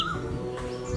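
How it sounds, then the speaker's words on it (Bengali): Wild bird calls in Bangladesh, a few faint high chirps and whistles in a brief, quiet outdoor recording with no talk. "ভোরবেলা ভেসে আসা নাম না জানা কোনো পাখির ডাক শুনে চিনতে পারি কি"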